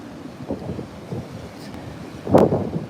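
Wind gusting outdoors on the coast, a soft, steady rushing across the microphone with one stronger gust near the end.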